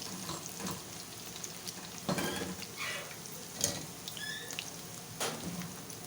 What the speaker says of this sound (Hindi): ये जब तक फ्राई हो रहे हैं